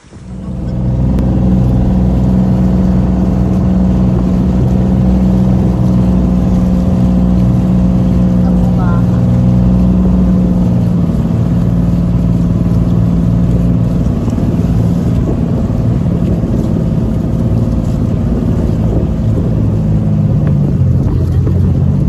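A motorized bangka boat engine drones continuously near Namanday Island, a loud, steady low rumble running throughout with voices faintly talking underneath.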